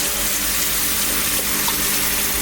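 Water runs steadily from a tap in a sailboat's galley or head plumbing, a constant broadband hiss and splash heard alone and close at hand.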